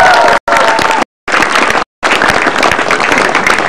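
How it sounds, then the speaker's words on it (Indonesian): A live studio audience at an Indonesian stand-up comedy show claps and cheers in loud, dense bursts, broken by brief silent gaps, with no talk over it. "Tepuk tangan sekali lagi biar semangat."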